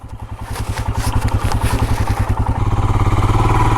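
A motorcycle ridden solo on a mountain road in Uttarakhand broken by a landslide chugs at low revs with a steady rapid thumping beat and mechanical clatter, close and loud, picking up slightly toward the end.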